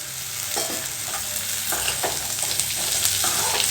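Chopped pumpkin sautéed in a hot pan for poriyal produces a steady, close hissing sizzle with intermittent scraping stirs that grow slightly louder toward the end, with no voices.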